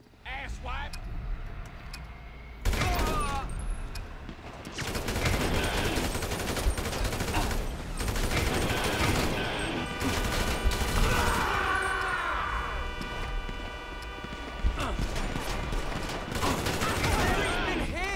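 Gunfire in GTA V during a mission: bursts of shots and rapid automatic fire mixed with car engine noise, loud and busy, while people shout and talk over it.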